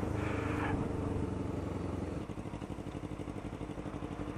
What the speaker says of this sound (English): I was just testing my exhaust out